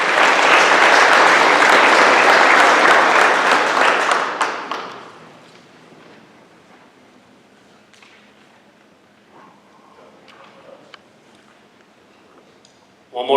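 A crowd at a school awards and scholarship night claps loudly and steadily for students for about four seconds, then the applause fades quickly to a quiet room with a few faint scattered sounds.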